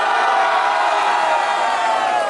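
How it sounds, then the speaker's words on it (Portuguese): Rap battle crowd cheering and whooping at a final, a dense, loud wall of voices roaring without a break throughout. "barulho pra quem gostou das imagens de AJ"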